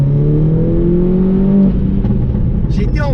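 A Mini Coupe John Cooper Works tuned to stage 2 with 280 hp accelerates hard in sport mode, engine note climbing loudly from inside the car, then a gear change and continued pull with brief chatter late on.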